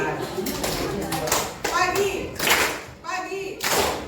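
Children clap in bursts during a classroom call-and-response clapping game, answering times of day called out; sharp, loud group claps alternate with a child's and teacher's voices.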